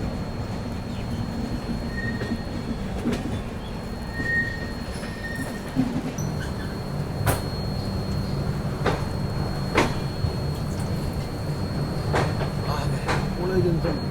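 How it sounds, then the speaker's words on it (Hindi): AC Duronto Express train pulling into Pune Junction, a steady low rumble of the rolling coaches with scattered clanks and rail knocks, heard from on board under faint background voices. "चलिए दोस्तों अपनी ट्रेन पहुंच रही है पुणे जंक्शन पे, फाइनली अपना अराइवल होता हुआ।"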